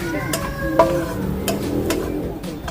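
Salted crab ingredients stir-fried in a pan without oil, with scraping and tapping of a utensil against metal over a soft sizzle, a few sharp clicks scattered throughout.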